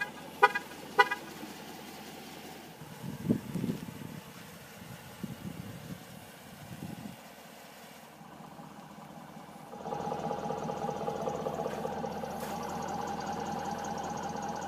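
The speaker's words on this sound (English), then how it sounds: "when you're leaving the vehicle with your key fob in your pocket, the vehicle will actually sound the horn a few times" A 2022 Dodge Durango R/T gives a few quick short horn toots as the driver leaves with the key fob, then its 5.7-liter Hemi V8 idles and hums steadily in the background.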